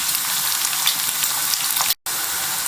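Coarsely cut onion fries with sausage and bacon in a pan, giving a steady, close sizzle with crackling throughout and one abrupt brief dropout near the end.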